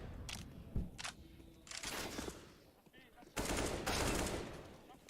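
Bursts of AK rifle fire in a Counter-Strike: Global Offensive match, several sharp volleys and single shots spread over a few seconds, loud and close, with commentary talk running between and over them.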